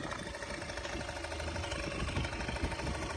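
A Suzuki ZZ Inch Up Sport scooter engine runs at a steady idle, giving a fairly quiet, even, rapid buzzing putter throughout with slight rhythmic knocking and no talk.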